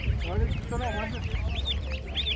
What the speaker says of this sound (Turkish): Şurada güzel ördek civcivleri var görüyorum.